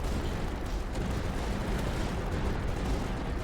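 Cannon artillery fire in the strategy video game Tower Dominion, a dense, continuous roar of overlapping booms and rumbling blasts at steady loudness with no clear gaps between shots.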